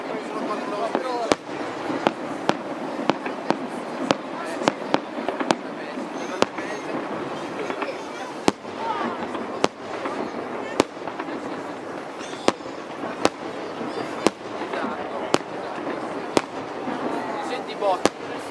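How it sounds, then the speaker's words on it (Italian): New Year fireworks and firecrackers going off in Bolzano, sharp bangs at a steady irregular pace over a continuous crackling, hissing background, with voices murmuring throughout. "Senti botti."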